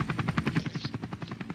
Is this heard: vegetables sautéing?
no